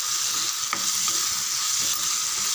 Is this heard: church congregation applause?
no